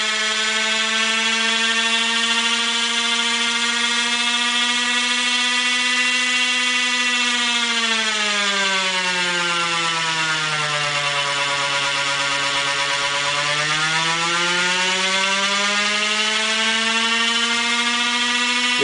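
A Rotorgenie3 brushless DC motor with neodymium magnets whines with a steady tonal hum, its pitch sagging partway through, then climbing back up, continuous and close.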